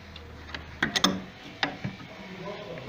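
Wrench loosening a 14 mm nut on a Vespa scooter's clutch disc, with a screwdriver holding the disc, giving a few sharp metallic ratcheting clicks and ticks at close range in a quiet workshop.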